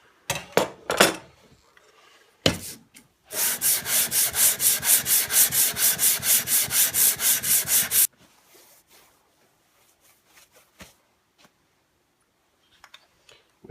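Restored bench plane sole rubbed back and forth on a coarse sharpening stone, a few scattered scrapes and then a fast run of about twenty rhythmic gritty strokes, followed by faint clicks and handling noises.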